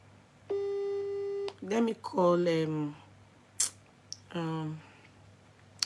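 A telephone line gives a flat electronic tone when a call fails to go through, followed by short clipped sounds and a voice speaking in bursts.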